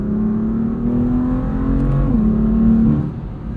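A 530hp 2015 BMW M4 with a DCT gearbox accelerates hard with its tires breaking loose slightly, the engine drone heard loud and steady from inside, rising in pitch with a quick shift midway.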